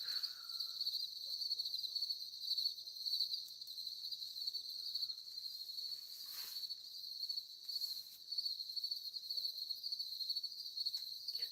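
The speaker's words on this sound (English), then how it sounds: "there's a lot of crickets around here. It's like my trademark noise every time I'm on here." Crickets chirp in a steady, continuous outdoor chorus, faint and distant, with no talking.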